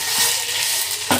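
Mustard seeds, cumin, asafoetida, garlic and chillies tempering in reused hot frying oil for masala karela: a brief, loud, dense sizzle with a sharp pan clatter near the end.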